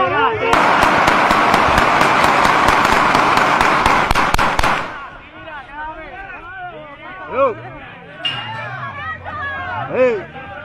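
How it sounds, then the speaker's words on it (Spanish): Gunfire during a shooting in Aguadilla, Puerto Rico. A dense, loud burst of rapid cracking shots runs for several seconds, then stops and gives way to shouting voices. "¡Hey! ¡Están disparando!"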